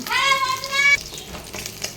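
Fish frying in a pan sizzles with a steady crackle, while a tonal whistle-like sound rises over the first second before fading, leaving the soft spitting of oil.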